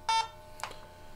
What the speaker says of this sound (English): The instrument will stop and beep and display the failed message until a button is pressed.